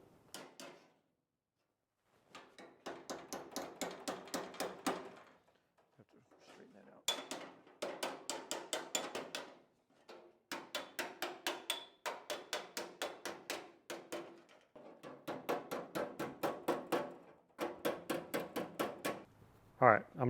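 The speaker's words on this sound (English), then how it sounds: "if you hit this too much or very much at all really with much pressure, you're going to stretch the metal over the dolly" Hammer tapping sheet metal over a dolly during Chevy Nova bodywork, with rapid ringing metallic blows in six bursts separated by short pauses, close and sharp.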